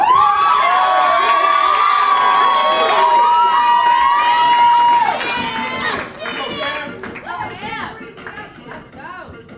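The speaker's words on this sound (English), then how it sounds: "Make some noise, y'all, for Cambriae." A loud crowd cheers and shouts, with a long high whoop riding over the roar before it settles into scattered chatter and calls.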